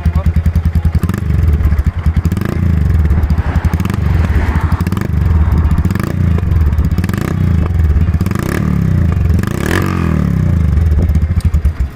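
A custom cafe racer motorcycle converted from a Hero Karizma, its exhaust tuned for thump and its RPM adjusted, pulses out a loud, close, rhythmic low thumping idle with occasional throttle blips and some rattly clatter.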